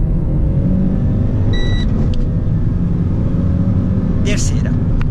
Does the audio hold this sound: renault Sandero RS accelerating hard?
yes